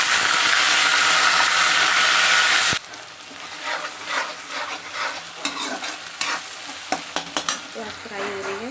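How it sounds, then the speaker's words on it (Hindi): Onions frying in a pan in a home kitchen, a loud steady sizzle that cuts off abruptly, followed by scraping and stirring with clicks and clatter. "प्याज फ्राई हो रही है।"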